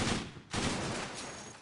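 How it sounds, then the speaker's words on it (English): Enemy cannon fire in the robot game POLYBOT-7, a dense burst of broadband blasts that stops briefly halfway, then resumes as a steady rattling volley, loud and close with no talk. "He's only firing his cannons yet."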